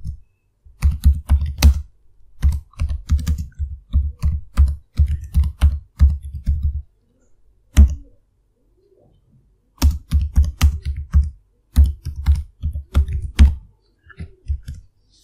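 Rapid bursts of keystrokes on a computer keyboard while code is written, close and clear, coming in several quick runs separated by short pauses, with no talking.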